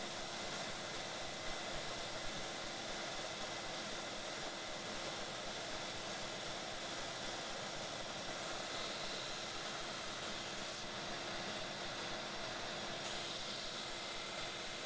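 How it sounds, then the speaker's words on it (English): A belt sander grinds knife handle scales toward their finished shape, giving a steady, loud, broadband whirring roar that runs unbroken from start to finish with no voices. "I set to work on the belt sander to get the scales closer to their finished shape"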